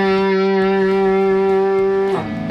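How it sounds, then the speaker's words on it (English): Electric guitar holding a single sustained note, its pitch dipping with vibrato as the neck is bent downward near the end; close, clear and unaccompanied. "This, you're able to add vibrato by bringing it down all the way."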